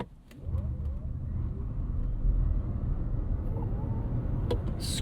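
A 2026 Toyota C-HR, 338 hp, launches hard off the line with tires scrambling for grip, a steady loud engine roar building and holding throughout with faint road rumble, no talk.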